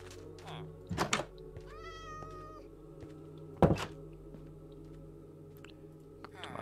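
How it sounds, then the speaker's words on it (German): Cat in the Minecraft video game giving a short meow between two loud thunks, with a low game background hum underneath. "Da ist eine Katze."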